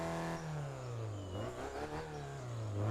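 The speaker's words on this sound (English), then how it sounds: "Let's rev it." A car engine revs in neutral in Test Drive Unlimited 2, climbing and falling in pitch through a couple of throttle blips, close and loud with no voices over it.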